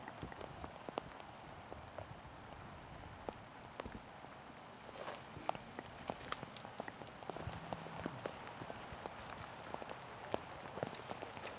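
Steady rain patters across an open disc golf course in Wisconsin during a tournament round, a dense hiss of drops with scattered sharper ticks on hard surfaces, continuous and moderately faint with no voices.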